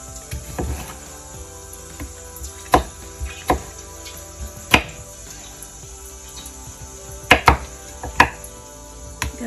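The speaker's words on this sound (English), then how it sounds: "my chopping board is so sliding now. Things are popping out, but doesn't matter, you just need to roughly chop." Fresh tomatoes being roughly chopped with a knife on a sliding chopping board, a series of sharp, irregular close knocks spread out among quiet pauses.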